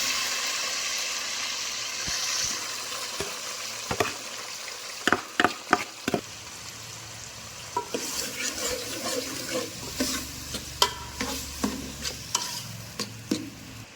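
Tomatoes frying in a pan for a tomato and spinach dish, with a soft steady sizzle and scattered sharp clicks and scrapes of a spoon stirring against the pan.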